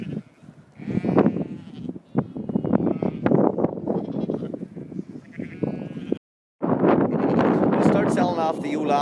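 Sheep on a lowland farm bleat loudly and close to the microphone, several overlapping calls in a steady run with wind noise, briefly cut off before resuming.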